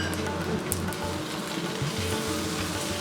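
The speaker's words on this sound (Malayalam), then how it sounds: "വീണ്ടും ഒരു 2 മിനിറ്റ് നേരം നമുക്കൊന്ന് വഴറ്റാം ഈ തക്കാളിയോട് ചേർത്തിട്ട്" Chopped tomatoes sauté in hot oil for a Malabar fish curry, giving a steady close sizzle with faint crackles and no voices.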